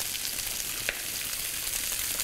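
Veal cheeks sizzle in a pan, a steady close hiss of frying with faint crackles throughout and no voices.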